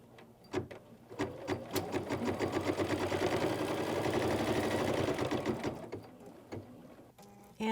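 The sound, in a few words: embroidery sewing machine stitching outer edge of fabric triangle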